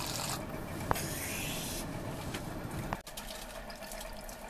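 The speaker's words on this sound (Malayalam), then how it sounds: "ഇതിലേക്ക് വെള്ളം ഒഴിച്ച് നല്ലപോലെ കഴുകി എടുക്കുക." Two cups of cracked wheat are washed by hand in water, making a steady close swishing, rubbing slosh with a couple of light knocks and no talking.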